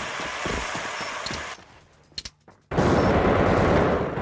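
Rapid automatic gunfire in a competitive first-person shooter match, loud sustained bursts that cut out briefly into near silence with a few faint clicks, then resume at full volume.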